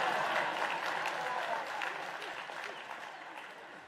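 Audience applause at a 2019 commencement address, a moderate wash of clapping that starts fairly strong and gradually fades over a few seconds, heard at some distance.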